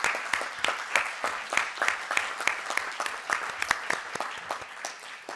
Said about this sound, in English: so we can give a round of applause to Frankie and his team